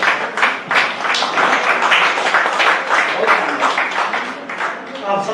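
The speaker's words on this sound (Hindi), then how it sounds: "भाई तालियों में कंजूसी आ रही है।" Audience applause for a poet at a recitation, dense steady clapping from a crowd that carries throughout, fairly loud and close, with a voice starting up at the very end.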